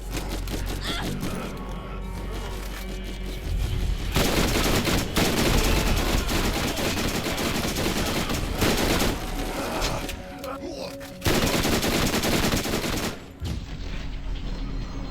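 Sustained gunfire in the video game Gunplay and Roses, with dense rapid bursts and repeated shots firing almost continuously at close range, briefly broken by pauses, over game music and effects.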